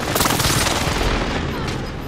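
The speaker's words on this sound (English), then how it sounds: "friendly precision airstrike inbound" Loud, dense barrage of explosions and rumbling blasts from a friendly precision airstrike in Call of Duty Warzone, rolling continuously for about two seconds with faint voices underneath.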